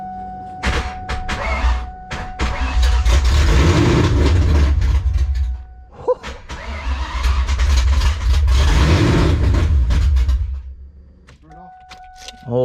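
A supercharged, cammed Terminator Cobra engine cranks and fires on its first start, giving two long loud bursts of rough, heavy engine roar with people talking over and between them.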